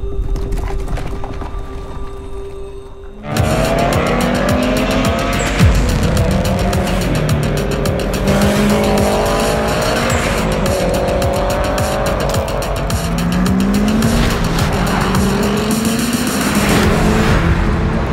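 Subaru WRX STI cars in a drag race launch after a quieter idle, engines roaring loud and close as they accelerate through rising gear pulls, with sharp tire squeal and continuous engine noise throughout.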